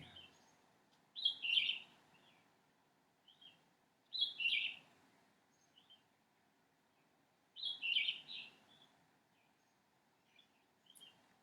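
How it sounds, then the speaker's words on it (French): A bird sings just outside a window in three separate bursts of bright chirping phrases, set apart by quiet pauses, fairly close and clear over a soft background hush. "there is a bird singing right outside the window"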